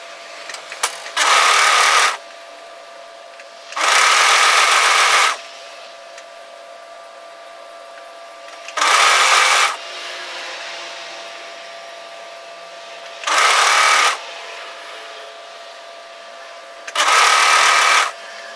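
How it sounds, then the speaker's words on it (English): A serger, or overlock machine, stitches a sweater side seam in short loud bursts, five runs of whirring stitching separated by quiet pauses with a faint background hum. "we're going to serge off."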